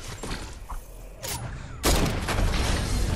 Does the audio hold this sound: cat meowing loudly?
no